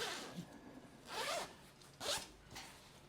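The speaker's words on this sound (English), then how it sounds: "I'm just going to zip this up and see that I've got nothing twisted." A sewn zipper on a sewing project is pulled up in a few quick raspy strokes, close and fairly quiet, with short pauses between pulls.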